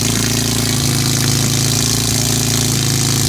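A BMW E30 with a swapped S54 engine and new exhaust runs loud and close, a steady deep idle with a rough, throbbing rumble and no talk.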